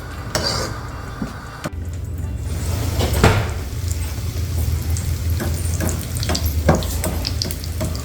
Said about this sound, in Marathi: आपण हे ब्रेड आहे ना त्यामध्ये तळून घेणार आहे